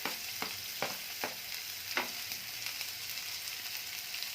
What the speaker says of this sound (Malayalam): ഒന്ന് വഴറ്റി വരട്ടെ.